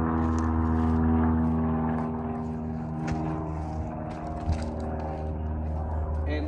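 Low droning engine hum of an airplane flying overhead above a backyard under landscaping, steady and sustained with a tonal whine, someone talking faintly over it.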